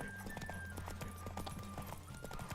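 Roach, Geralt's horse in The Witcher 3: Wild Hunt, gallops with steady, rapid hoofbeats over soft, quiet ambient game music.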